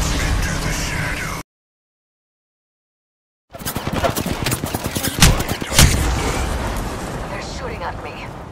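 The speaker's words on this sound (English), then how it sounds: "They're shooting at me." Rapid bursts of gunfire from Apex Legends ring out loudly in dense, overlapping volleys with a couple of heavy impacts, following a short stretch of dead silence, while players talk over the shooting.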